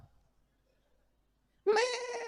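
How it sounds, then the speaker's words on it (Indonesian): A goat bleats once, loud and close, a harmonic cry arriving abruptly after near-silence and holding to the end of the clip. "Ternyata kambing itu kalau mengembik saja, itu ada 3 jenis embikan kambing."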